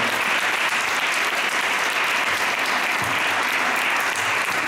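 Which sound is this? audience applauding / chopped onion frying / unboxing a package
audience applauding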